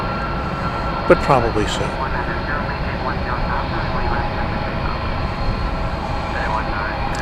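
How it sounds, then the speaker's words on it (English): A 21-year-old Airbus A300 airliner at DFW airport gives a steady low jet engine rumble throughout, with people talking over it and a brief sharp sound near the start. "It's a 21-year-old Airbus A300, once again going to Ontario in California."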